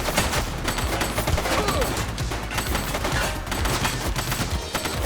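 Heavy, continuous gunfire in The Precinct, many weapons firing at once in a dense, loud barrage that barely lets up for the whole stretch.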